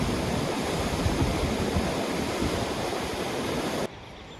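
Steall waterfall pours through the Glen Nevis gorge in Scotland, a steady broadband rush of falling water with no voices, continuous until it cuts off abruptly near the end.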